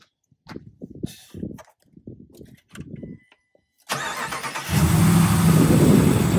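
A few short voices are followed by a car engine cranking and catching, then settling into a loud, steady idle close by.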